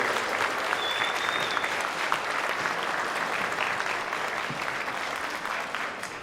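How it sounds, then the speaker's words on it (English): A school orchestra concert audience gives a sustained round of applause, a dense and steady clapping crowd that stays full and even before fading slightly at the end. "can we give a nice big round of applause to everybody that's in here that supports the"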